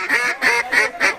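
Four loud, evenly spaced quacks from duck calling during a duck hunt, close and nasal, each about a quarter-second long.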